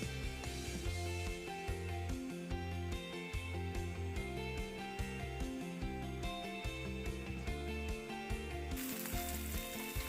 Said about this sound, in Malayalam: എണ്ണ ഒഴിച്ച് നന്നായിട്ട് ചൂടാകുമ്പോഴത്തേക്കും കടുക് പൊട്ടിച്ച് വറ്റൽമുളകും കൂടെ ചേർത്ത് കൊടുക്കാം.